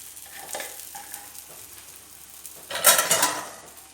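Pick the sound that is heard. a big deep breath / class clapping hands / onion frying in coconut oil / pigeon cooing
onion frying in coconut oil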